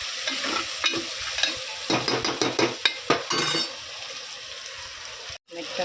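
Onion frying in a pan for a homemade chicken curry, with steady sizzling and a rapid series of metal spoon scrapes and clinks as it is stirred, close and fairly loud.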